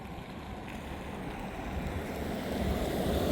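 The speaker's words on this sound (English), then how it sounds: "So it's an old grist mill paddle wheel." An old grist mill paddle wheel turns in the water in the middle of Tellico Plains, Tennessee, giving a steady, dense rush of churning water that grows slightly louder toward the end, with no voices.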